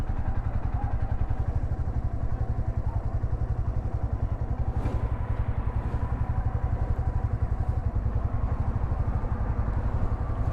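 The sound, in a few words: motorcycle engine idling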